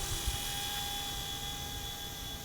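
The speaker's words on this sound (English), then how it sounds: "The helicopter goes forward and to the right on its own" A RAGE RC Hero Copter radio-controlled helicopter hovers close by, its rotor giving a steady, even whir with a thin whine running through it the whole time.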